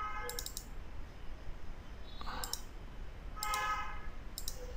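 Computer mouse clicking while saving a file, a handful of light, crisp clicks scattered over a quiet background hum.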